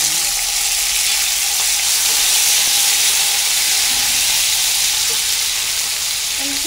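Peas and browned cashews frying in hot oil in a pan for matar pulao give a loud, continuous sizzle with steady hiss and faint stirring, and no talk over it.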